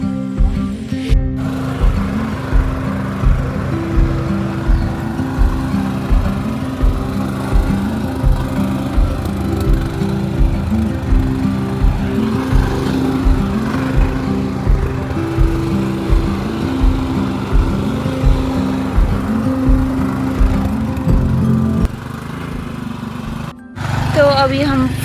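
A tractor engine chugs steadily and close by on a farm field in Uttarakhand during rice transplanting season, a continuous low rumble with a regular pulsing beat, cutting out briefly near the end while a voice talks over it.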